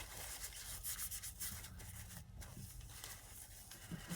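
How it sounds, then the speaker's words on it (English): Paper towel wiped over etched glass to clear residue: soft continuous rubbing and scuffing strokes, close and fairly quiet, with light irregular swishes throughout. "you're going to grab one paper towel and you're just going to go over it to take off the residue of it"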